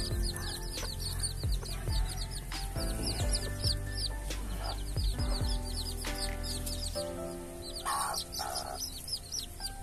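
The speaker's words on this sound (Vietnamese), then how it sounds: "Đây, gà con nó còn yếu lắm." A mother junglefowl-cross hen and her six weak newborn chicks in their nest: steady clucking from the hen with rapid high chick peeps throughout, close and continuous, no talking.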